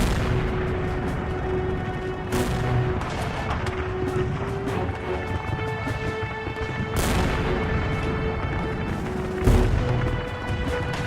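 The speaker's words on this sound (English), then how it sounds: "the Russians subjected Pleven to an artillery bombardment" Dense, continuous artillery bombardment from a 19th-century siege battle at Pleven, with repeated booming blasts and crackling gunfire layered into a loud, unbroken roar.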